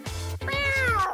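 A cat lets out a loud, drawn-out meow close by, rising and then falling in pitch over about a second, heard alone with no voices.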